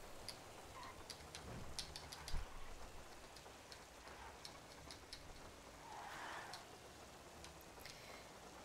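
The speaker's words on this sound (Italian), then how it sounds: "E piove di nuovo qui." Rain falls in the video game GTA V on a FiveM server, a soft, continuous patter with scattered drip-like ticks and a brief thump, faint and steady throughout, with no voices.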